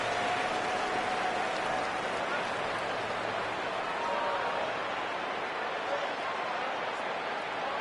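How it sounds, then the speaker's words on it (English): Dense, steady roar of a stadium crowd at a football game on a third-down play, a broad continuous wash of noise with no breaks or distinct voices standing out. "They not only have to deal with this defense, but the noise from this crowd on 3rd and 4."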